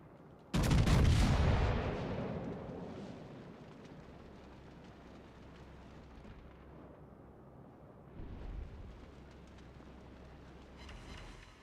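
Warship guns firing in World of Warships: Legends: one heavy, booming blast opens sharply and rolls off into a long rumbling decay, followed later by a softer second swell of distant gunfire.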